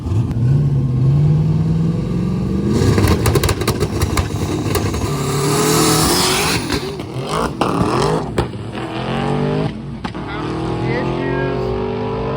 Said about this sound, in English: We have our stick shift cars up, and of course they're being led by the 2 notoriously fast stick shift cars.